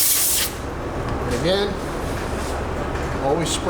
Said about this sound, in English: again, always spray it on the rag.